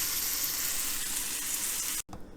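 Shrimp fry in a pan with a dense, close, steady sizzle and crackle for about two seconds before a brief cut and a quieter sizzle resumes.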